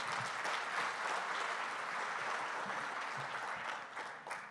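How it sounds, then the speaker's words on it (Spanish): An audience applauds guests on stage at a cacao producers' event, giving steady, dense clapping that holds evenly before tapering slightly at the end, with no talk. "Un aplauso, por favor, para nuestros invitados."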